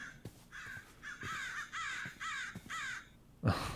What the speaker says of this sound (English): Those crow sounds